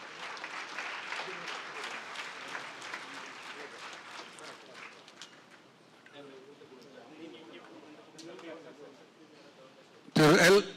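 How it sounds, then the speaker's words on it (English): Audience applause at the Dynamic Indian of the Millennium Awards 2023 ceremony, dense clapping that swells early then thins and fades over several seconds, with a voice over a public address system near the end and a short loud burst closing it. "A huge applause, please."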